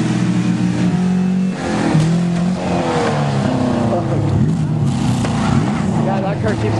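A Buick crushed by a 20-ton bulldozer revs its engine loudly, with rising and falling tones that sag as it stalls and dies, while people talk nearby.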